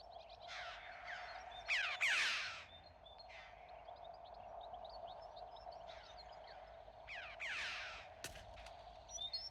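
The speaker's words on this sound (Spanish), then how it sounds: "el cuervo, llamado también cuervo carnicero, se entrega a sus vistosos vuelos nupciales" Common raven calling in winter during its courtship season, several harsh croaking caws in scattered bursts over a quiet, steady low background hum.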